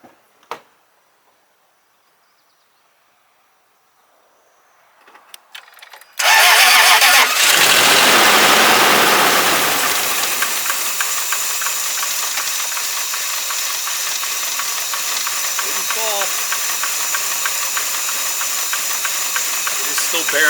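A Land Rover engine cranks and catches after near silence, roaring loudly at first, then settling into a rough, struggling idle with a hissing edge as it barely keeps running and threatens to stall.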